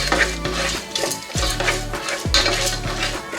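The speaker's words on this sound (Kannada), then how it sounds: "ಇದೆಲ್ಲ ಗೋಲ್ಡನ್ ಬ್ರೌನ್ ಆಗೋ ತನಕ ಇದನ್ನು ಇದೇ ರೀತಿ ಎಣ್ಣೆಯಲ್ಲಿ ಫ್ರೈ ಮಾಡ್ಕೋಬೇಕು" Cashews frying in oil in a pan for rava tomato bath, a loud close hiss of hot oil with repeated rhythmic scrapes and knocks of a spatula against the pan, and no talking.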